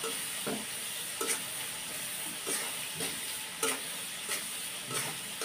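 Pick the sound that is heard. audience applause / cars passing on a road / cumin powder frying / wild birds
cumin powder frying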